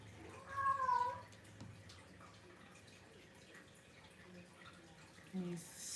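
Indoors, a pet cat gives a loud, wavering meow at the start while calling to cats outside, followed by a shorter, lower cry near the end over faint room ambience.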